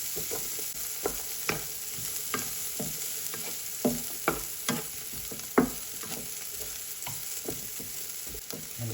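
Corned beef frying in a pan over a moderate flame, a soft continuous sizzle punctuated by a dozen or so irregular spatula scrapes and taps, fairly quiet and close with no voices.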